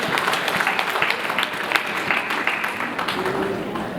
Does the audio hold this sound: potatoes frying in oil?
no